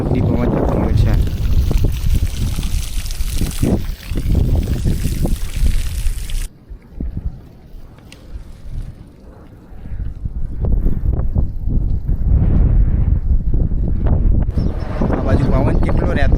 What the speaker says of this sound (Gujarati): અત્યારે હાલે રોડ પર એટલી હવા આવે છે